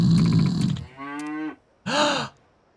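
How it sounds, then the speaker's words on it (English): Cow mooing in the video game Yakuza 8: several low, drawn-out moos and grunts in quick succession, close and clear, with no talk over them. "There's a cow."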